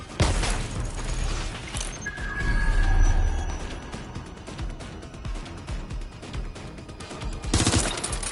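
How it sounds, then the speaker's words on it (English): Gunfire in the video game WDL, bursts of sharp close shots and rapid automatic fire crackling through most of the stretch, with heavier volleys near the start and end. "I'm taking fire!"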